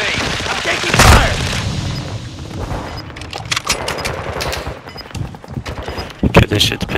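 Gunfire in the video game Call of Duty: Modern Warfare II during a Control match: repeated sharp shots and bursts, one heavy boom near the start, mixed with game sounds while a player talks.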